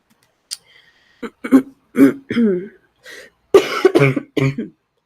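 A few short throat-clearing coughs and vocal bursts, close and fairly loud, scattered across a few seconds with brief gaps between them.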